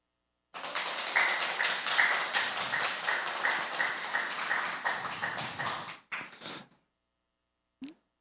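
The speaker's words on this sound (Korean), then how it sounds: "여기 직접 오신 분들께서 박수를 이제 치시기 때문에" Lecture audience applauding the speaker in a hall: sustained dense clapping for about five seconds, fading out with a short second burst, then silence.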